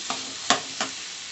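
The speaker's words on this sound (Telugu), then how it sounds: "టూ మినిట్స్ అయ్యాక ఒకసారి తీసి మళ్ళీ ఒకసారి కలుపుకోవాలి లేకపోతే అడుగంటుతుంది" Beetroot curry stirred in a pan, three quick scraping strokes of a spoon over a soft steady sizzle.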